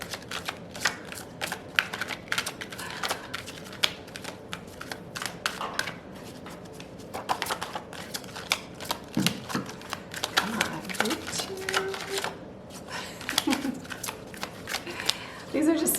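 A deck of tarot cards is shuffled by hand, with crisp riffling bursts and rapid card flicks repeating in clusters, close and clear, while someone talks in between.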